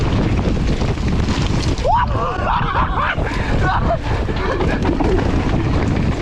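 Strong wind buffets the microphone at an outdoor bike park with downhill freeride jumps, a loud continuous rushing roar, and a person's voice cuts in briefly partway through.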